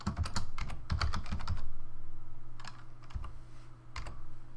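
Rapid bursts of keystrokes on a computer keyboard while entering JavaScript code, clustered in quick runs with short pauses between, close and clear with no talking.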